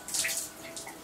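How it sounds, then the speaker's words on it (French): Splashing water as a face is rinsed at a sink, a brief close wet swishing burst. "Ensuite, je rince."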